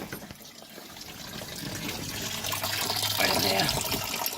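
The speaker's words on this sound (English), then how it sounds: "You can hear the fluid draining out." Fluid drains from a Ford Super Duty 6.0 diesel engine during oil cooler work, a steady splashing, gurgling pour that grows louder as it goes, with someone speaking briefly over it.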